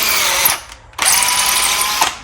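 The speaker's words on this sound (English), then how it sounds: "Just cleaning out the threads here." A 6mm tap, likely driven by a power tool, cleans out threads on a John Deere D120 lawn tractor, giving two loud whirring bursts with a short pause between and a brief click near the end.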